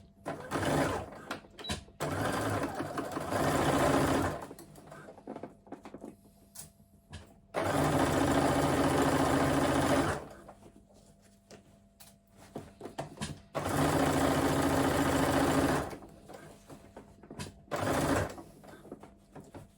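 A sewing machine stitches across the top of a crossbody bag to attach an adjustable strap. It runs in three steady, loud bursts of several seconds each, separated by quiet pauses.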